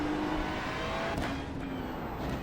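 A Porsche 911 GT3 race car roars steadily in an iRacing GT sprint at the Nürburgring, a loud sustained engine note with a gear-shift dip midway, no voices.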